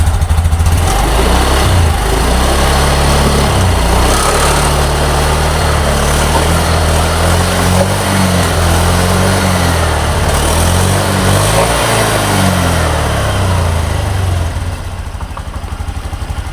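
A Honda Beat scooter engine runs after repairs to rat-chewed wiring and the fuel pump, idling with a steady, close putter that keeps an even rhythm throughout and eases slightly at the end.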